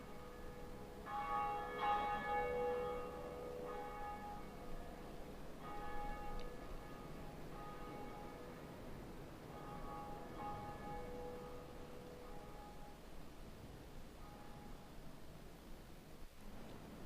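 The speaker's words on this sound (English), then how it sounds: "So that's the first bell we have to ring, or that we can ring, I guess, in the undead church." A church bell rings in the undead church in Dark Souls: a couple of ringing tolls with long, fading metallic hum over a soft hiss, distant and fairly quiet.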